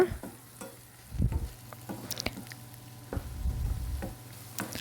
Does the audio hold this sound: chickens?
no